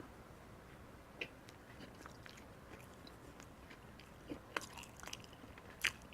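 Soft, chewy white bread from a bakery is bitten and chewed close up, with quiet mouth sounds and a few sharper bites scattered through the stretch.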